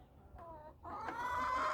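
Backyard hens cluck nearby at a coop, a couple of short calls followed by louder, drawn-out clucking, with no talking.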